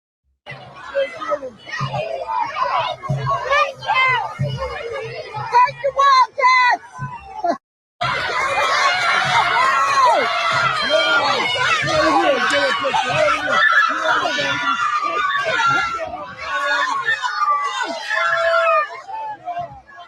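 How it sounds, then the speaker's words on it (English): Children cheering, whooping and shouting at a parade in New Hampshire, a dense crowd of excited high voices rising and falling, breaking off briefly before swelling again louder and sustained. "They're cheering for Trump, man."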